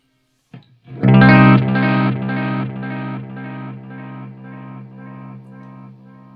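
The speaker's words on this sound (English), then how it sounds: "You can get a very pleasing distortion on the digital mode on the timeline" A single distorted, gritty guitar note rings out loud through a Strymon Timeline delay pedal in digital mode and repeats as a fading series of echoes, each repeat softer than the last, with no talking.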